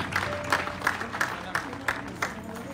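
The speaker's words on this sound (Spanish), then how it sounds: "le damos un aplauso al que vive y reina para siempre" Church congregation applause at an evangelistic campaign service in a crowd setting, with rhythmic clapping in steady repeated bursts and voices mixed in underneath.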